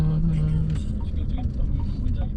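Taxi ride on Jeju Island heard from inside the car: a steady low rumble of engine and road noise, with faint clicks and ticks over it.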